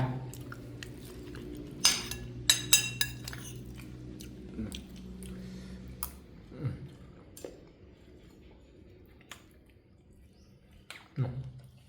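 Close, wet chewing and biting on laab during a Thai meal in an abandoned police station, with scattered crunchy bites and a few sharp clinks of cutlery against dishes, under low murmuring and occasional speech.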